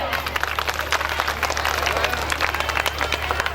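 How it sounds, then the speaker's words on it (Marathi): A crowd at a village event in Dhalgaon claps for a guest in steady, dense applause that carries on without a break. Some voices mix in under the clapping. "दादांसाठी जोरदार टाळ्या"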